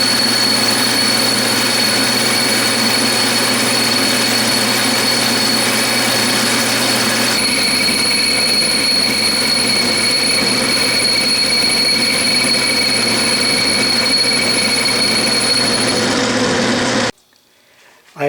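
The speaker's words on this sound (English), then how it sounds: "I'm just turning it to the basic diameter now" A metal lathe turns a cast belt sander wheel down to diameter, giving a steady, loud mechanical drone with a persistent high whine and a brief drop in tone partway through before cutting off near the end.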